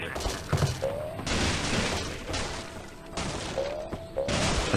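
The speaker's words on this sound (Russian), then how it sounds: "Взрываем детонатор." Detonator blast in the Angry Birds Seasons Summer Camp episode: a burst of crashing, fusillade-like bangs and thuds that recur across the few seconds, loud and close, with game effects in between.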